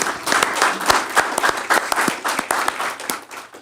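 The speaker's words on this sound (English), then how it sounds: "I think we can give them a round of applause, I think." Applause from a small group at a council rules committee meeting: sparse, uneven handclaps with distinct individual claps standing out, close and moderately loud, lasting a few seconds.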